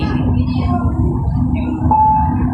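Steady low rumble of an LRT Line 1 light rail train riding along the tracks toward Dr. Santos station, with a brief high whine of the wheels or motor rising near the end.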